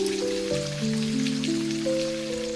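Continuous rainfall makes a dense, even hiss throughout, layered under gentle held music tones, with no one speaking.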